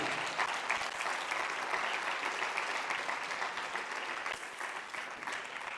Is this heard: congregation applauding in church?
yes